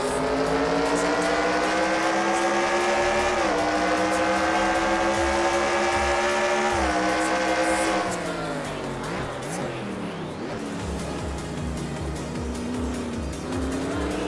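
NASCAR Racing 2003 stock cars at Montreal roar close together through the hairpin, engines howling at a steady high pitch that drops as they brake and bunch up, with overlapping motors and faint tire squeal.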